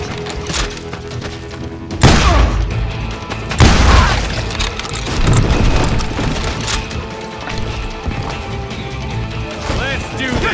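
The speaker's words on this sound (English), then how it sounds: "They're shooting in the street!" Gunfire erupts in a street shootout in the Western game Call of Juarez: Gunslinger, with heavy booming shotgun-like blasts and scattered crashing shots over a constant din, and voices shouting between them.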